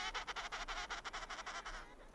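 Penguins calling in Antarctica, a dense colony chorus of harsh, brassy squawks repeating in quick pulses for about two seconds, moderately loud and fading slightly at the end.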